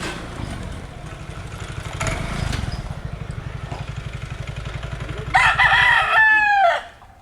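Pet chickens and a rooster at feeding time, with close clucking over a steady mechanical engine drone, then a loud rooster crow near the end.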